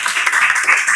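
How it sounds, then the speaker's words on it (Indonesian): Classroom applause for a student named Devan during an eighth-grade guidance lesson, a steady patter of many hands clapping together through the whole second with no pause. "tepuk tangan buat Devan"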